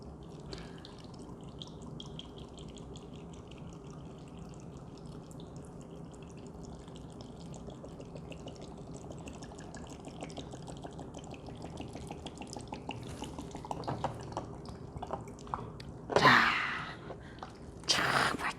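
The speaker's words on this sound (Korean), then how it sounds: "자 매실청을 제가 한번 부어 보겠습니다" Plum syrup pours over salted garlic for pickling, a faint, soft liquid trickle with drips that grows busier toward the end, ending in a brief louder splash and handling noise.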